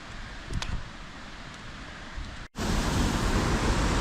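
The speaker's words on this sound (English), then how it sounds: "Here are the waterfall at the daylight." A strong waterfall in the Swiss mountains roars as a dense, steady broadband rush, nearby and loud, after a brief cut from quieter wind-like noise.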